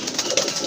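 A pair of large male pigeons coos close by in a short, clear burst of soft, throaty calls.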